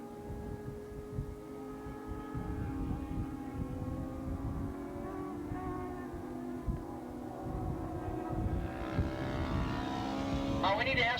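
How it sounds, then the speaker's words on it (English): 600cc Super Street racing motorcycles roar around Willow Springs International Raceway in 1986, a sustained engine drone with rising and falling revs as bikes brake into turn one, heard under a track announcer's commentary. "out breaks Elvin into turn number 1 and takes over fourth"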